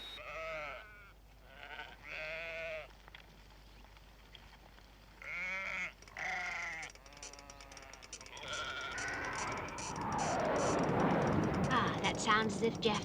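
Several loud, close sheep bleats ring out in short bursts from a sheep-counting meter signal, then fade into a rushing hiss.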